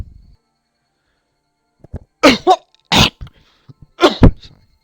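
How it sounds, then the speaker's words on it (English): One person coughs several times in quick, harsh bursts close to the microphone, then stays quiet. "I was coughing."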